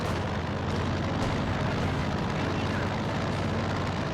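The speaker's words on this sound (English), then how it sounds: "Gonna go down the plane. Boom! Down it goes onto the ground." A plane shot down and crashing to the ground in Company of Heroes 2, a World War II strategy game: a loud, continuous roar of engine noise and rumbling impact, dense and steady with no clear breaks.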